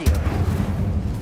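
A fire spell cast in Hogwarts Legacy, a short, dense, rumbling burst of flame that stays loud and steady for about a second, with game combat noise around it.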